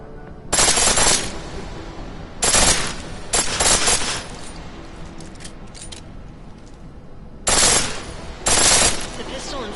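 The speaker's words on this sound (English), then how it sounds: "The pistol in full auto will take down targets fast, but it'll burn through your ammo" Pistol firing on full auto in Deus Ex, five loud bursts of rapid fire spaced by short pauses, with a quiet hum of ambient game sound between them.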